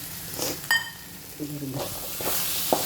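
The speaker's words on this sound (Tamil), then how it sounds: "இப்போ கொஞ்சம் எண்ணெய் ஊற்றுறேன்" Oil poured into hot masala in a pan for a green field bean dish, crackling sizzle with stirring scrapes and a brief metallic clink, moderately close and alone.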